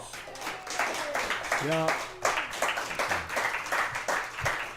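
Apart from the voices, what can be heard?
audience applause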